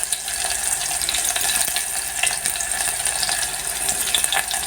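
Chopped onion drops into hot oil already seasoned with bay leaf and panch phoron spices, giving a steady, fairly loud hiss and sizzle that runs unbroken throughout, with no talking.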